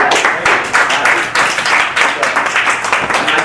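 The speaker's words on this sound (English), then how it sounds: "Give me a huge round of applause." Loud, dense applause from an audience at a seminar, a continuous wash of many hands clapping with slight surges, sustained close and alone for a few seconds.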